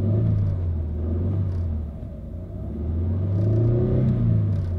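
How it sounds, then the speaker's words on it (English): An SUV engine revs while running rough with a known fault, a steady low rumble that swells, dips briefly and climbs again, close and loud with no talk over it. "when I rev it up, you can feel the engine isn't running right"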